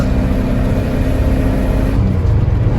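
A 1982 Porsche 928 pulls hard through its gears, a loud, close engine roar with steady low harmonics and a brief dip near the end as the revs shift.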